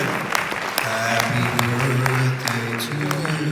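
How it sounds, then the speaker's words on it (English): A room full of people applauding, a dense burst of hand claps with talk and cheering voices mixed in, fairly close and loud. "please render a round of applause for Dr. Silverman"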